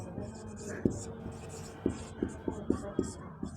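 Marker or chalk writing on a board during a Hindi-language Class 9 maths lesson, a series of short tapping strokes and scratches under a quiet voice.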